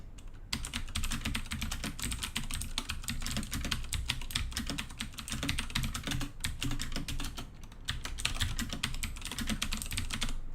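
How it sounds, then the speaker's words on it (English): Blue-switch mechanical keys on a Das Keyboard 4 Professional clatter in a steady, fast stream of sharp clicks, close and loud throughout with a few brief pauses, no voices. "if I type on my Blue Switch keyboard, let me just try to type something"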